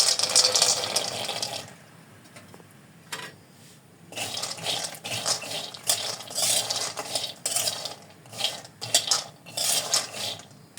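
Shelled peanuts roasting dry in a pan for homemade Nutella rattle and scrape in bursts as they are stirred, with clinks of a metal spoon against the pan, close and moderately loud.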